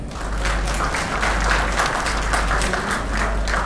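Steady, loud applause from an event audience honouring gold sponsors at an Oktoberfest celebration, dense clapping with crowd murmur lasting throughout, over a constant low hum from the venue sound system.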